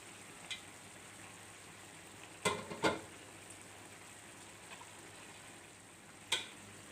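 Pitted, chopped black olives and mushrooms sauté in a pan with a soft, steady sizzle, broken by a few brief clatters of stirring at close range.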